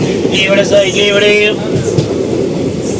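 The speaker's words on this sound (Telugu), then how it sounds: "ఎగ్జాక్ట్గా 2 minutes స్టాప్ తర్వాత మన ట్రైన్ అయితే స్టార్ట్ అయిపోయింది" The Garudadri Express on the Tirupati to Chennai run rolls on after a brief station stop, with a loud, steady rumble of wheels and carriages and a few tonal squeals early on, continuing unbroken throughout.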